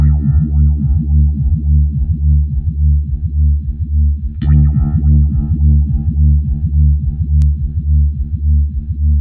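Anagram synth on KosmOS 1.7.0 with a wide modulation effect sweeping a sustained, distorted bass-heavy tone, the pitch swirling up and down in steady repeated waves, loud and alone with no voices.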